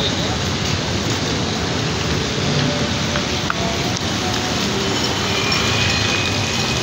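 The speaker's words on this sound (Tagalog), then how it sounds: "Maulan ang lakad." Rain pours steadily at an outdoor shoe bazaar and food park in Marikina, a dense, loud hiss of falling drops filling the whole stretch with faint background voices.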